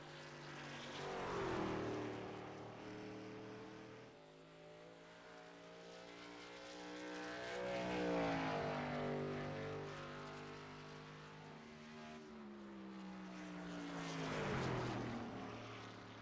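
Truck racing video game engines during qualifying, revving in repeated loud swells as trucks pass close by and fade, the engine pitch rising and falling with each pass, no talking.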